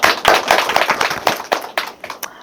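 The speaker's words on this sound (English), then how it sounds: "give another round of applause." Studio audience at a talk show clapping for a professor guest, a dense burst of many hands with sharp individual claps standing out, steady and close, thinning slightly toward the end.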